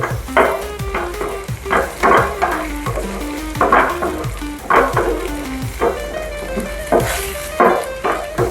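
Shallots and green chillies fry in a pan with a steady sizzle, broken by repeated scraping and stirring strokes and light clinks against the pan, close and fairly loud, with no talk.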